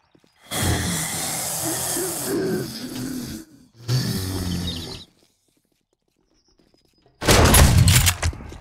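Gunfire in the post-apocalyptic video game 7 Days To Die, loud bursts of rapid shots in three separate volleys with near silence between them.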